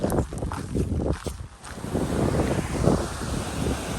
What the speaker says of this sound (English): So this is just a little creek that's flooded here.